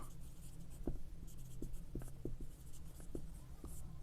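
Pen strokes of someone writing the count of sailors for a class 7 maths problem, a string of short scratchy taps and scribbles close by at low level, with no talking.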